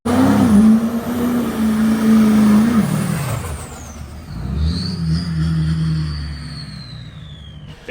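A red LBZ Duramax diesel truck engine with a turbo revs loud and close, holding a steady drone before falling away, while a high turbo whistle sweeps downward and then rises again.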